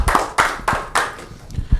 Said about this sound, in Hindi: तो एक बार जोरदार से तालियां हो जाए इनके लिए।